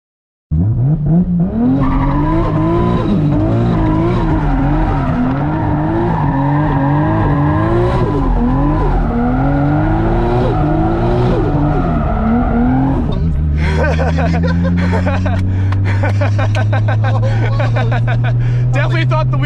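A car with an E85-fueled 2JZ engine revs hard and loud for several seconds, its engine note rising and falling, then its tires break into a sustained, piercing squeal as it accelerates away.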